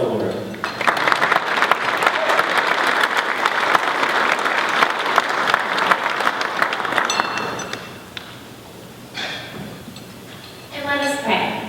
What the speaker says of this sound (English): Let's give a round of applause for Laura.